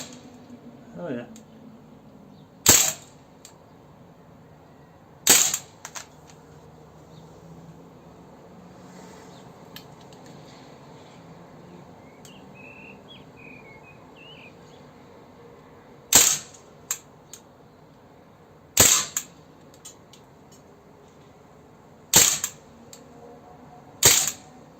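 An Umarex Legends MP40 4.5mm CO2 BB gun fires single sharp cracks at a target 16 yards away, six shots spaced irregularly across a quiet background with low murmuring between them.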